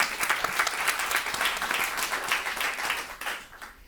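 An audience applauds at a closing-remarks event, a dense, steady round of clapping from a crowd that holds for several seconds and thins out toward the end, with no talking over it.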